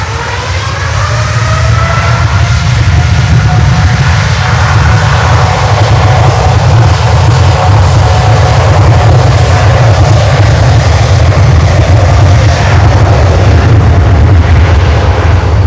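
A Turkish Airlines Boeing 787 Dreamliner jet takes off at Miami airport, a loud, steady engine roar with deep rumble and rising turbine whine held throughout, no talking.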